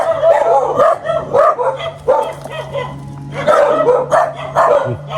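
Several dogs barking loudly and close by in a neighborhood, with repeated bursts of barks and yips in an uneven rhythm and a faint steady hum beneath.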